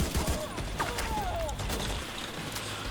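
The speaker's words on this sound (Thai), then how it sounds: "เอาสไนเปอร์ เข้าหัวไปซะ" Sniper rifle fire in The Division 2, with sharp heavy shots early on amid a busy layer of combat noise and whistling tones, loud and steady throughout.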